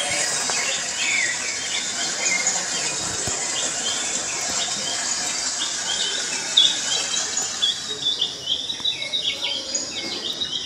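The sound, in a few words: played recording of rainforest bird and animal sounds in museum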